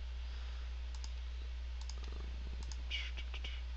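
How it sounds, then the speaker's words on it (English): A computer mouse clicks a few times, close and crisp, in small pairs over a steady low electrical hum in a quiet room. "What you're going to do is go down and you're going to click on"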